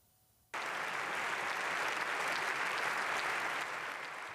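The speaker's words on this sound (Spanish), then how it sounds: "Aplausos de pie en el Parlamento de uno de los principales socios de Ucrania." A standing ovation in the German parliament erupts abruptly after a short quiet moment, then holds as dense, loud, sustained applause that eases slightly toward the end.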